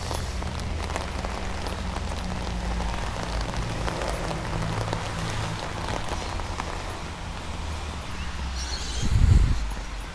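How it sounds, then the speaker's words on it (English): Steady, dense heavy rain in Sydney patters continuously on a surface, with a brief low thump near the end. "Still raining cats and dogs, as you can see"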